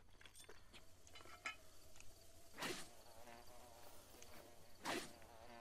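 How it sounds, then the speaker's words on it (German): Bees buzz in Zelda: Breath of the Wild as a faint, close insect drone with scattered clicks, punctuated by two sharp, louder impact bursts, without speech. "ich habe es geschafft, die Bienen mit einem Hammer abzuwehren"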